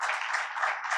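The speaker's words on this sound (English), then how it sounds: "Let's have a round of applause for all of them." A brief burst of steady clapping from a conference audience after a panel discussion, even and moderately loud, heard alone.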